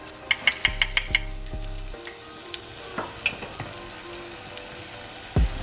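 Green chilies, cumin seeds, ginger garlic paste and onions sizzle in a pan for a kofta and spinach curry, with a few metallic clinks and stirring scrapes at the start over a steady close frying hiss.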